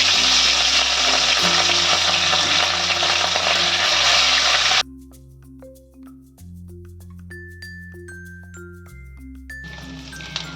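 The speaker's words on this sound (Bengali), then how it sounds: "এবার আমি কড়াতে মাছগুলো একে একে ছেড়ে দিচ্ছি" Fish pieces frying in mustard oil in a wok make a loud, dense, steady sizzle for about five seconds, then give way to light melodic music.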